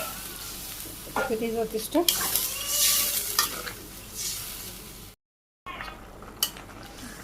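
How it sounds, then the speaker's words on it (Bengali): Potato and pointed gourd curry sizzling and being stirred in a pan as water is added, a hissing rush with scraping spoon clatter in a village kitchen, while someone speaks briefly. "আলু পটল কষানো হয়ে গেছে, জল দিয়ে দিই,"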